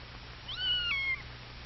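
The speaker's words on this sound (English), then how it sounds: "He makes friends with Anna the cat." Anna the cat gives a single clear, rising-then-falling meow, close and fairly loud over a faint steady hum, with no one talking.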